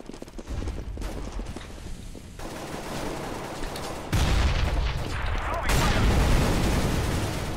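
Loud automatic gunfire in Counter-Strike: Global Offensive, rapid bursts that intensify toward the end, with bits of speech underneath.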